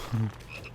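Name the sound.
frogs croaking in Final Fantasy VII Rebirth video game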